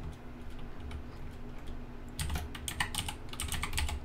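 Fast, steady typing on a computer keyboard while naming a layer in Figma, crisp clicking keystrokes heard close up in the second half over a low background hum, with no talking.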